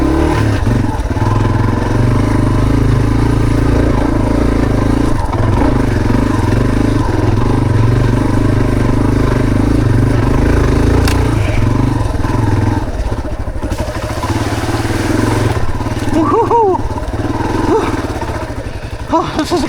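A motorcycle-like engine labours up a mountain in first gear, a loud, steady low drone with slight rises and rattling clatter throughout, while a voice speaks over it at times.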